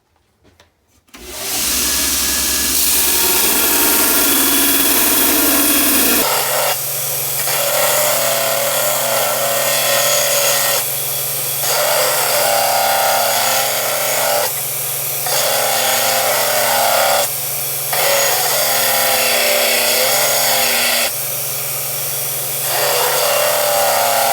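A belt sander fitted with a 60-grit sandpaper belt grinds and flattens the back of an old axe head, a loud steady abrasive roar that runs throughout, with periodic dips as the metal is lifted and pressed back onto the belt.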